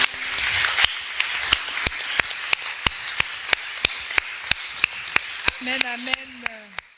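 A church congregation claps in a steady, even rhythm of sharp, loud claps under a broadband crowd wash, with voices rising and a sung or called tone appearing near the end.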